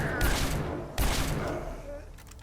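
Laser rifle fire in Fallout 3, two sharp loud shots about a second apart, each with a bright burst that decays into a fading tail, heard close and alone.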